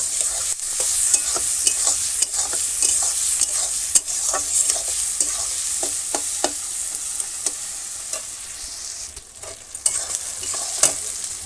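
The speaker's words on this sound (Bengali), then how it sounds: "পেঁয়াজটা একটু হালকা হালকা লাল লাল ভাজা করে রেখে দেবো।" Onions seasoned with salt and turmeric fry in a village kitchen, giving a constant close sizzle under frequent sharp scrapes and taps of a spatula stirring the pan.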